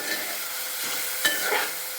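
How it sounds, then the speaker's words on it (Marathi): Mixed vegetables frying in a pan for spicy pasta, giving a steady, fairly quiet sizzle with a couple of soft stirring scrapes, no voices. "आता ह्या भाज्या आपण व्यवस्थित अशा फ्राय करून घेणार आहोत"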